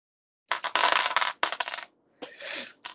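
Several polyhedral dice, including a twelve-sided and a ten-sided die, clatter in quick loud bursts of sharp clicks, pause briefly, then rattle again in a second burst.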